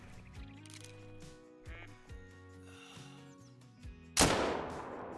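A single loud, sharp rifle shot from a 9.3 drilling rifle fired at a bull while hunting in Alberta in the video game Call of the Wild, cracking out near the end after calm ambient game music.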